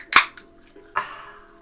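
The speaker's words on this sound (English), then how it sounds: "if you rap on the walls, it sounds like this." Two sharp, bright knocks on glassy, mirror-like cave walls in a tabletop game, the first strike loud and crisp, the second a little softer about a second later, each with a short ringing tail.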